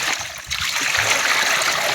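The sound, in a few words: water being poured into a tub with ice and a fish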